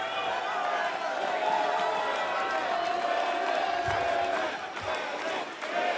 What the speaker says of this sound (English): Crowd coming alive for the Mack.